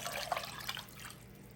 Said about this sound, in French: je vais ajouter le double d'eau